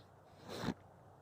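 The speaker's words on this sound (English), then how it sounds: "Always gotta clear my throat." A man clears his throat once, a short, quiet rasp lasting under half a second against faint outdoor background.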